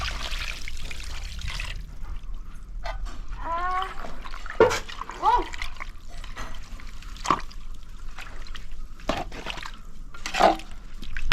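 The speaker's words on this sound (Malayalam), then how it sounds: "നമ്മൾ ഇനി വെള്ളം ഒഴിച്ചു കൊടുക്കുക നമ്മൾ തിളപ്പിച്ച വെള്ളമാണ്" Boiled water is poured into a large pot of homestyle chicken curry, giving soft intermittent splashing and trickling with a few sharp clinks, fairly quiet and without talk.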